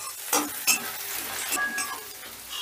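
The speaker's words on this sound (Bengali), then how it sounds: "এবার আদাটাকে একটু নাড়াচাড়া করে নেব।" Chopped ginger is stirred in hot oil in a pan for a Katla fish curry. Close, steady sizzling with two sharp scraping clinks early on, then a continuous crackle.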